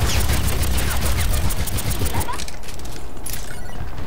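Rapid turret gunfire in the PC beta of the game Overwatch, a dense continuous burst of shots up close for about two seconds, then thinning into scattered impacts and background game noise.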